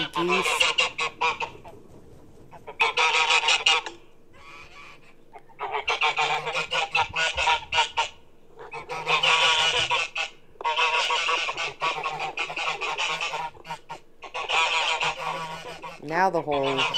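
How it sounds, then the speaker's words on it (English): Geese honk loudly in repeated bursts, several birds calling together with brief pauses between volleys, close by. "Oh, them geese."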